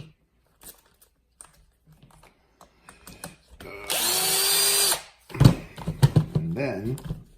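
A power driver backs screws out of the differential cover on a Losi 8ight-T RTR RC truck, one loud sustained whir with a short second burst, surrounded by small tool clicks and handling noises.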